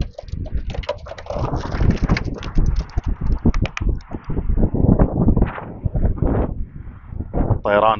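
Racing pigeons released at a toss about 6.6 km northeast, flapping and flying low around houses, with a flutter of wings under steady wind, nearby voices and other ambient noise.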